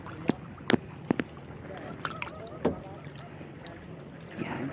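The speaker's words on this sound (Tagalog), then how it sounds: "Hindi mahirap sagwanan yung bangka na dala namin." A small boat is paddled by hand with an oar on calm sea water, with irregular knocks and splashes from the strokes and a faint wash of water and wind between them.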